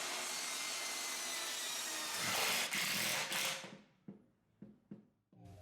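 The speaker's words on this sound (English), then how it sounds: "I am drilling some pocket holes to attach the top" A drill boring pocket holes in particle board for a credenza top: a loud continuous whirring grind that cuts off, followed by several short separate bursts, with no talk.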